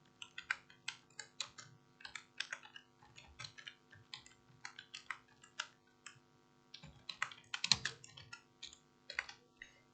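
Narration is typed on a computer keyboard in Tally accounting software, with quick, quiet, irregular key clicks in bursts and short pauses between them, close to the microphone.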